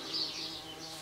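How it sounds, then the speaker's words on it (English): An Australian bee buzzes close by in a garage during rear brake work on a Ford Mondeo, a continuous droning whine that swells slightly and holds steady for about a second with no talk. "watch out for this bee"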